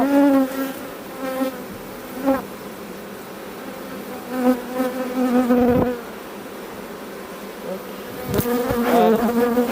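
Honeybees buzz around an open beehive as it is being closed, a dense, close droning hum with individual bees rising and passing near, punctuated by a few sharp knocks and clicks from hive handling.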